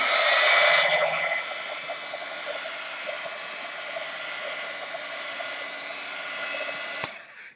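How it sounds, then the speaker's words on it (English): A heat gun blows hot air to dry a watercolor painting in a hot press watercolor journal, a steady loud whooshing roar held for about seven seconds that cuts off abruptly, with no talking. "I'm turning on the heat gun now."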